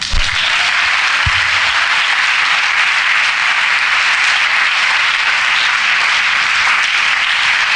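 Church congregation applauding, a dense, even roar of many hands clapping that stays loud and steady throughout, with a couple of low thumps near the start.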